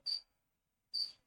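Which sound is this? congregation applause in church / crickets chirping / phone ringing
crickets chirping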